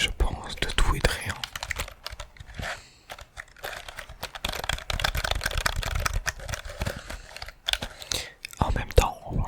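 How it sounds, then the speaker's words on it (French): Close, crisp typing on a computer keyboard for ASMR, irregular bursts of clicky keystrokes with brief pauses, accompanied by soft whispered speech in places. "je vais essayer de vous déclencher avec ce clavier"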